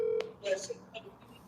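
Short electronic telephone keypad tones sound as a number is dialed on a second phone, brief beeps spaced apart, close and moderately loud, with faint background voices around them.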